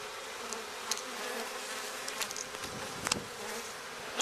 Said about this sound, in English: All the bees are feeding.